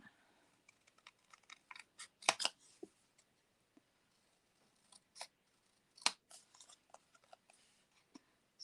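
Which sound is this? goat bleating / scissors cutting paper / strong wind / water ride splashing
scissors cutting paper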